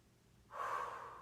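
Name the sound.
deep breathing during a stretching workout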